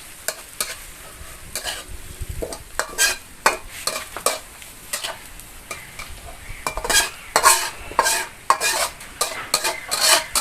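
Beef stir-frying for Thai pad kra pao with dried chilies: steady close sizzling under busy, irregular spatula scrapes and clanks against the pan, with no voices.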